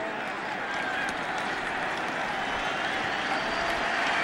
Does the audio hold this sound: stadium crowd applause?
yes